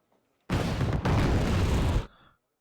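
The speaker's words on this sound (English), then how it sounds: "Bombing me with the aardvark." Aircraft bombing run by an Aardvark in a real-time strategy game: a single loud, dense explosive roar lasting about a second and a half, with a brief dip partway through, then cutting off into a short fading tail.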